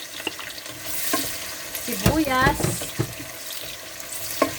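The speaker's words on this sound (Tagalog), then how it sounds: "piniprito ko na po yung bawang" Garlic and onion frying in a pan, a steady close sizzle with stirring scrapes and a few sharp knocks, plus a brief burst of running water partway through.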